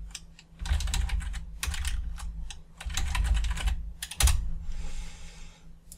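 Rapid bursts of keystrokes on a computer keyboard, close and fairly loud, typed in quick runs with short pauses between them and no talking.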